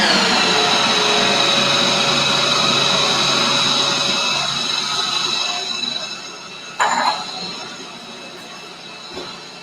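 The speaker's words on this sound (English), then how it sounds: "we're just going to add this in, and then we're just going to blend it up" A blender whirs steadily as it purées a creamy potato mixture, a loud, even motor drone that winds down toward the end, followed by a brief clunk.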